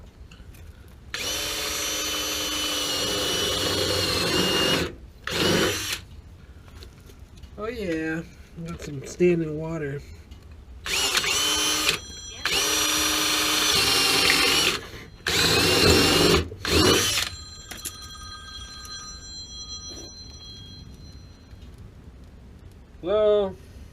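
A power drill works on a GE water heater damaged by rain and sun, with standing water inside. It whirs in several close, loud bursts of a few seconds each, with a man's speech heard between them.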